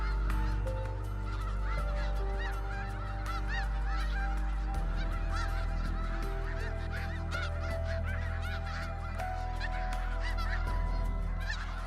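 A flock of Canada geese honks continuously, with many overlapping loud calls close by over a low rumbling background and no talking.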